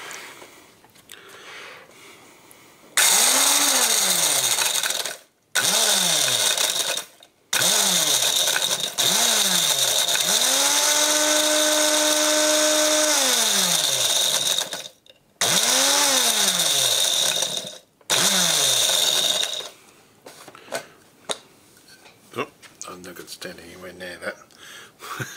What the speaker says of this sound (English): I'll grind this one down first and then we'll tip this back into there and give it a bit more of a grind